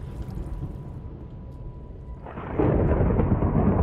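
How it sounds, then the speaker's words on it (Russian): A thunderstorm in Minecraft rumbles low and steady with rain noise, then swells into a louder, closer roll of thunder near the end, with no voices over it. "да что за гроза?"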